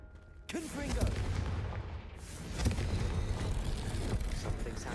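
Confringo fire spell blast in Hogwarts Legacy, a booming, rumbling explosion that sustains for several seconds with a second swell midway, mixed with game effects; a voice calls out just before.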